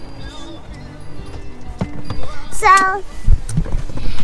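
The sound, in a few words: horse hooves clip-clopping at a farm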